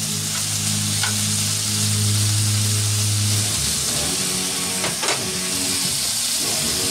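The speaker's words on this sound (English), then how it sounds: "Fry this up a bit." Chopped bacon slices sizzle and crackle steadily in a frying pan, a constant close hiss with a low hum underneath during the first few seconds and a couple of light clinks later.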